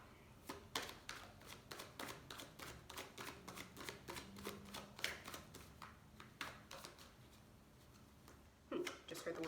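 Tarot cards are shuffled close up in a rapid, crisp riffling flutter that runs steadily for several seconds, with a brief pause and a final burst of shuffling near the end.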